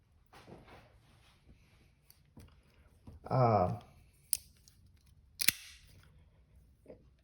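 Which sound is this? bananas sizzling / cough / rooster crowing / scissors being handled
scissors being handled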